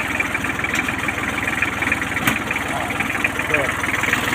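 An old imported Japanese Kubota L1-255 tractor engine idling, a steady, even diesel chug up close with a fast regular beat, and someone speaking over it.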